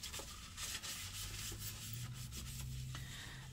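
Rubbing and scrubbing while cleaning a car's throttle body idle air passages, a steady close scraping texture with faint repeated strokes and a low hum underneath, no talk.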